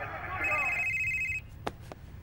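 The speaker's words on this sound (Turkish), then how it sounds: "Telefon çal." A telephone rings once in the Beyond Two Souls video game, a short electronic trill over a low background hum, followed by a couple of faint clicks.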